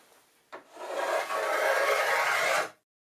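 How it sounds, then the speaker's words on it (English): A spokeshave pares steadily along a wooden stair nose being shaped by hand, one continuous rasping stroke of about two seconds following a short initial scrape, close and clear with no talk. "Then followed up with a spoke shave of similar origin."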